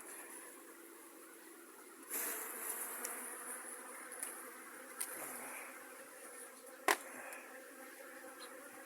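Honey bees hum steadily around an open hive during a beekeeping check, a dense, continuous buzzing swarm close by, with occasional louder passes and a few small knocks from handling the frames.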